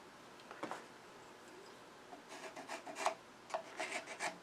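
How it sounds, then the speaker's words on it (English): A pencil scrapes across 8/4 lumber marking sight lines for drilling a shop stool, giving faint, rough rubbing strokes in short bursts, quiet and close, growing busier toward the end. "we're going to draw sight lines down the middle"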